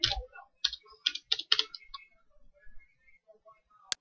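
Close computer keyboard clicks come in short clustered bursts as a Control Shift Enter key combination is pressed in Excel. Separate taps are spaced over a few seconds, followed by one sharp final click.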